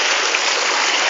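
Rainwater running during monsoon flooding, a dense, even rushing hiss with no breaks, heard alone and close.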